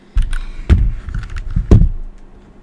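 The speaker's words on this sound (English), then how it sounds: "this is what a Dierya keyboard sounds like with red gateron switches" Dierya EK63 mechanical keyboard with red Gateron switches, typed in a few loose bursts of clacks with short pauses between, close and fairly loud.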